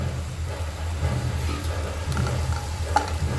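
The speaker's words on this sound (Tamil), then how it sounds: "அந்த இஞ்சி வெள்ளைப்பூடு பச்சை வாடை போகிற வரைக்கும் வதக்கிக்கோங்க" Ginger garlic paste sautéing in a pan for an egg curry, a steady low sizzle with occasional faint stirring clinks, continuous throughout and unaccompanied by talk.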